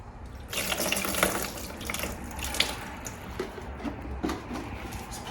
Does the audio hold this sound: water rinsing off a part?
yes